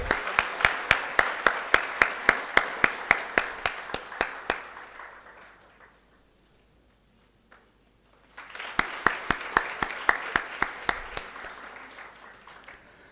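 A small audience at a conference inaugural ceremony claps in a steady, crisp pattern of close individual hand claps, fading out to near silence midway before a second round of clapping starts up again.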